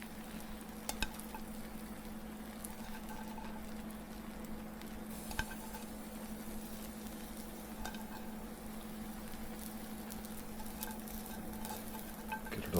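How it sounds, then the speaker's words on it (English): Chopped veggie mix frying on a preheated griddle gives a steady, even sizzle for the whole stretch, with a few sharp clicks and scrapes now and then. "Next we'll go ahead and put our veggie mix on there."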